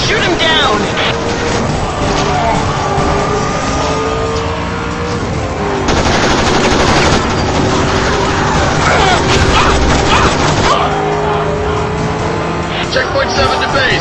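Gunfire in the zombie video game Road of the Dead, a dense continuous barrage of shots over engine noise and game sound, loud throughout with a heavier burst in the middle.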